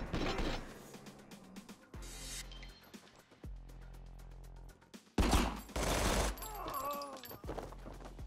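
Gunfire from the video game RICO, with several loud bursts of shots and mechanical weapon clatter arriving in clustered volleys across the clip, alongside game music and effects.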